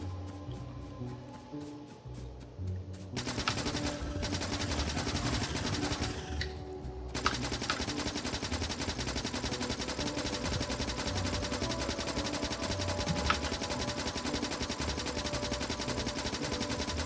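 Rapid, continuous automatic fire from gun turrets shooting piercing rounds in the video game Factorio, steady and loud throughout, with dense game background noise and no voices.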